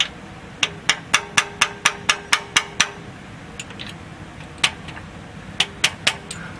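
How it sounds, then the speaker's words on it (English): A rapid run of about ten sharp metallic taps from a soft face hammer on engine valves, then a pause and a few more scattered taps, close and fairly loud, with no talking. "It's okay to tap them with this because it's a soft face hammer."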